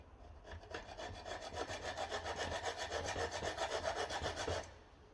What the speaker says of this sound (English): cut the other threads that we damaged with the hacksaw